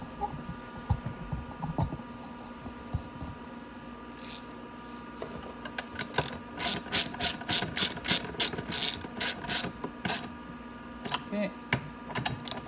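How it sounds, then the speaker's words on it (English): Ratchet wrench tightening the voltage rectifier on a Venom x22R 250cc motorcycle: bursts of rapid close clicking over a low steady hum, growing busier midway. "we're going to tighten down the voltage rectifier now"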